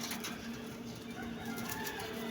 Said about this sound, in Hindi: माशाल्लाह ज़बरदस्त कबूतर है यार